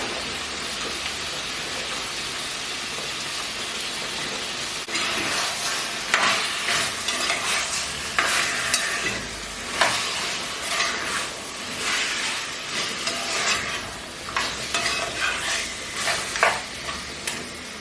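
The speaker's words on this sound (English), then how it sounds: "And before I cover it up, I am going to let it fry a bit." Jamaican-style chicken frying in a pot for a Christmas meal, a steady loud sizzle that swells after a few seconds with crackling pops and occasional stirring scrapes, close and without voices.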